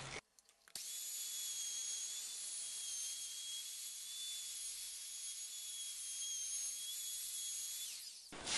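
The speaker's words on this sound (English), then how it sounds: "I'm going to go ahead and use a 1/4 inch roundover bit and clean up all these edges" A router with a 1/4 inch roundover bit runs along the edges of a wooden end grain cutting board. A high, steady whine starts abruptly, holds evenly for about seven seconds, then winds down, close and alone.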